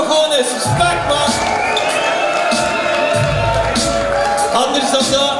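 A crowd at a rap battle cheers and whoops loudly, with applause and shouting swelling in waves throughout, a voice calling out over the noise.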